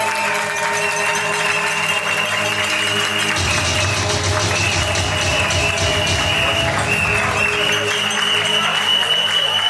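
Wedding guests at a civil ceremony applaud loudly and steadily throughout, a dense crowd clapping with music and voices mixed in beneath.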